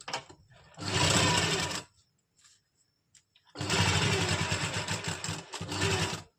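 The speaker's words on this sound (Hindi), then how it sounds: "जितनी भी प्लेटें हैं हमारी सब में हम इस तरह से कच्ची सिलाई लगा लेंगे बड़े टांके की" A sewing machine runs two long bursts of loose basting stitches along kurti pleats, loud and steady with a pause between, no talk over it.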